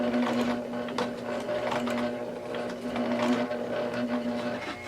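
A sewing machine runs steadily, stitching a Y seam in fabric one stitch at a time, with a constant motor hum and rapid needle clatter close by for the full stretch, no voices.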